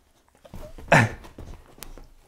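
A dog moves around indoors in a living room home theater, making soft scratching and shuffling noises with one louder brief burst, fairly close and without talking.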